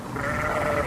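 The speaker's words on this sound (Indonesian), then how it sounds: "Ini domba." A single short sheep bleat sounds loud and clear on its own, a brief nasal 'baa' with nothing else around it.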